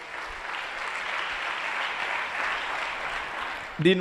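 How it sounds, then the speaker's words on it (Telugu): An audience at a Telugu sermon claps steadily for about four seconds at a preacher's request, even sustained applause, ending with a brief louder sound. "కొట్టు చప్పట్లు ఒకసారి"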